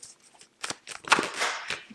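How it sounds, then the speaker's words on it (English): A tarot card deck is shuffled in a couple of brief close bursts, soft papery slaps and crackling riffles over about two seconds. "So just a couple more shuffles is what I'm hearing here."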